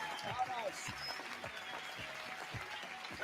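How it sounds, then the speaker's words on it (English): Studio audience at a 1975 Mind Readers game show pilot clapping in a continuous, fairly even wash of applause, with voices talking over it. "Just clapping the audience claps."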